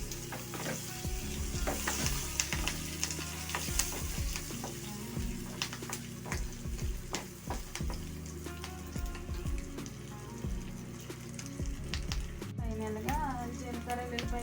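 French fries frying in hot oil with curry leaves added, a steady loud sizzle and crackle with stirring clinks throughout, no talk.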